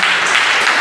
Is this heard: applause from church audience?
yes